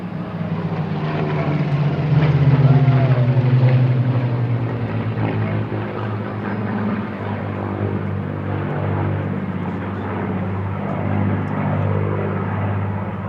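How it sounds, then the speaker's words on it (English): At the Airbourne Eastbourne airshow, a clipped-wing Mark 16 Supermarine Spitfire propeller aircraft flies past. It gives a loud, sustained engine drone with a rough, throbbing low rumble that swells and eases slightly over the pass. "But now taking centre stage, the almighty Spitfire."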